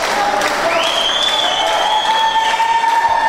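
Wrestling crowd at an independent show applauding and cheering loudly for Aaron Matthews, a continuous close wall of claps and shouts with whistles or cheers rising above.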